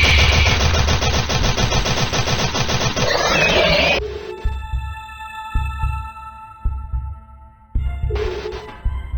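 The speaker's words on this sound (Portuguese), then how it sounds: "é só esperar essa minhoca feia aparecer e ficar atirando nela" Rapid, continuous gunfire aimed at an ugly worm boss in a Flash video game: a loud sustained burst for about four seconds, then game tones and thumps, with a second short burst near the end.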